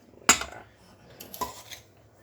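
A metal tablespoon clinks sharply against a bowl while sugar is measured for doughnut dough, one crisp strike followed a second later by a softer clatter.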